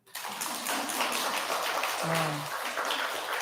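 A room full of people at a Sunday Buddhist temple service clapping, a dense steady patter of many hands sustained throughout at moderate distance.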